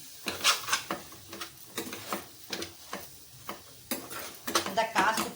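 Goat brain being stirred into chili powder frying in a pan, giving repeated scraping stir strokes and light sizzle in an irregular rhythm, close and moderately loud.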